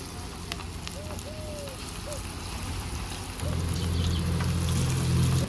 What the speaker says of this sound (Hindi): चलिए तो फ्राई कर लेते हैं।